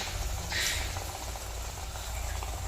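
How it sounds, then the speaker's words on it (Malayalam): Hot oil bubbles and sizzles steadily while bhatura fries, a continuous close, moderately loud seething hiss with a brief brighter burst early on and no talking. "എണ്ണ കണ്ടമാനം തിളച്ച് പെട്ടെന്ന്"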